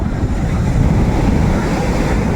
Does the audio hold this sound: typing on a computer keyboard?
no